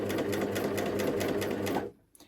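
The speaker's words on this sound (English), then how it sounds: "I'm just going to do a couple of stitches over the top," A serger running a couple of finishing stitches over the edge of a circular Christmas fabric napkin, a close, fast, even mechanical whir that stops abruptly near the end, followed by a faint click.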